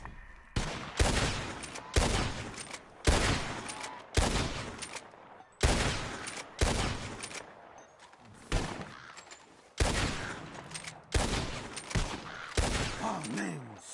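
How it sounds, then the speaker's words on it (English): Rapid bursts of gunfire ring out while shooting at birds in Red Dead Redemption 2, about a dozen loud, sharp volleys spaced roughly a second apart across the whole stretch, with no talking. "Whoever shoots four birds out of the sky first wins."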